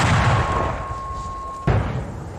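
A mortar fires twice: a loud boom rings out, decays with a high tone lingering, then a second sharp blast hits near the end.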